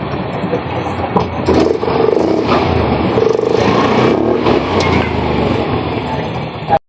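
A Yamaha Mio i125 scooter engine starts and runs with a steady, fairly loud mechanical drone and some uneven revving, then cuts off abruptly at the very end.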